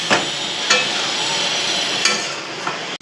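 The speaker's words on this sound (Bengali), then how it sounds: "ডিমটা দিয়ে একটু ভালো করে কষিয়ে নেবো" Eggs stir-fried with spices and potatoes in a pan give a loud, steady sizzle up close, broken by a few sharp knocks of a spatula against the pan, with no talking.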